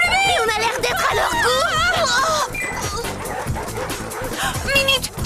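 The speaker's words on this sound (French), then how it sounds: "lâchez la horde de loups" A pack of wolves yips, whimpers and barks together in a dense, excited chorus of overlapping high cries, loud and close, mixed with busy cartoon action sound.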